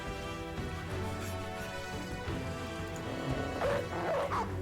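Dog barking and yipping in the video game Battle Brothers, repeated bow-wows over a dense, busy backdrop of battle clatter and music with no clear talk.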